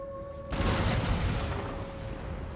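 Cannon artillery fires on an Empire: Total War battlefield, a single sudden booming report that rolls into a long, noisy rumble fading slowly, heard at moderate distance.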